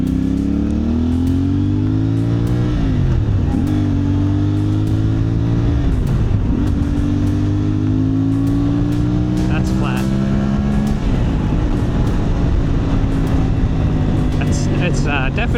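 A CFMOTO 450MT motorcycle on a test ride behind factories, its engine note climbing through the gears with several shifts and dips between pulls. The sound is close and steady, with wind rushing underneath.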